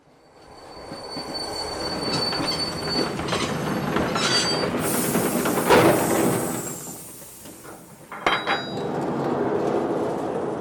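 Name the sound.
train coming to a stop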